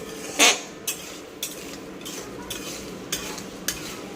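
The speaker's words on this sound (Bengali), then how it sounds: "এটা দিয়ে একটু নাড়িয়ে নেব।" A spoon stirs tempering spices, chana dal, moong dal and peanuts in a pan over a low sizzle, with sharp scrapes and clinks of metal on metal recurring about every half second.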